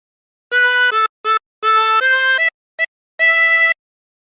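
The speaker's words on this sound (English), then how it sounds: "For phrase 3, breathe in through 7. Breathe in through 6 3 times." Harmonica playing phrase 3 of the sea shanty Wellerman, a clear melodic run of separate held and short notes with brief gaps, close and alone with no talking.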